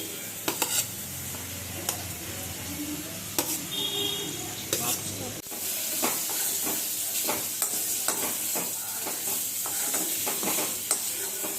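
Paneer curry ingredients stirred and fried in a pan, with a steady sizzle and repeated scraping strokes of a spoon throughout, close and moderately loud, with no talk over it.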